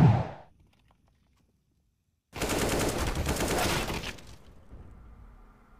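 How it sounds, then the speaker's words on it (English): A sustained burst of rapid automatic gunfire from the video game CS:GO, loud and dense for about two seconds after a near-silent pause, then tapering into a quieter lingering tail. "here you're going to see flusha start shooting at his first target"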